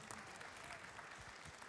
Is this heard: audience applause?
yes